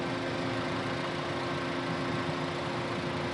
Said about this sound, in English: There's a John Deere tractor coming that has tracks on it